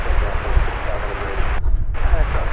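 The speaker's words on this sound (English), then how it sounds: "It's American Flight 3082 arriving from... Where's it arriving from? Roswell, New Mexico." An American Airlines jet airliner arrives at DFW airport, its engines producing a loud, continuous rumbling roar close by, with a brief dip in the high end partway through.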